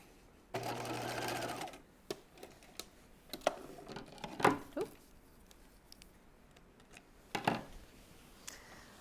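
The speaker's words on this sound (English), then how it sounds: "I'm just going to see if I can go back and stitch a little bit closer where I started" A domestic sewing machine stitches a collar facing on a raglan top: one sustained whirring run near the start, followed by scattered short bursts and clicks, close and fairly quiet.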